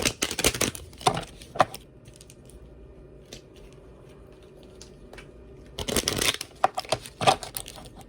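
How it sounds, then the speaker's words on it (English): Oracle cards being shuffled by hand, close and crisp, in two dense bursts of riffling and slapping at the start and again near the end, separated by a long quiet stretch with only faint handling taps. "Let me get a couple of these oracle cards."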